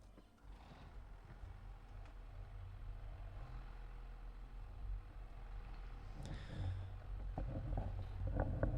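A tractor engine in Farming Simulator 25 starts up and settles into a steady, low idling rumble that swells slightly louder toward the end, with no talking over it.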